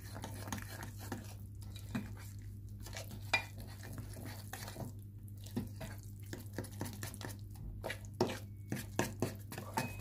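Eggless cake ingredients are stirred in a bowl with repeated soft scraping and tapping strokes in an irregular rhythm, close and moderately quiet over a faint steady hum.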